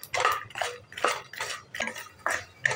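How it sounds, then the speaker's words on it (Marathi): Roasted makhana being stirred in a metal pan, a spoon scraping and clinking in a steady rhythm of about six strokes, close and clear with no talk. "आणि ह्याच्यात आपण आता हे मखाने टाकून घेऊया म्हणजे त्याला लागण्यासाठी, आणि हे मिक्स करून घेऊया"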